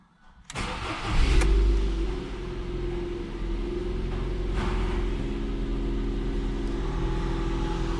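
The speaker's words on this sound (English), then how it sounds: "Now I can start the engine." A Ford Fusion 1.4 engine cranks and catches, then settles into a steady, close idle rumble.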